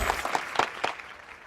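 A few scattered hand claps in a Telugu film scene about election politics, sharp and close, with a handful of distinct claps fading into quiet room tone.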